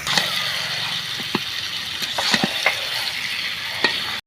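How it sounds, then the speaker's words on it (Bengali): Mutton and fried potatoes stir-fried together in a pan for a Bengali mutton curry, with a steady sizzle and scattered scraping clicks of a spatula against the metal, no voices. "দিয়ে ভালো করে আমি আর 1 মিনিট কষিয়ে নিচ্ছি।"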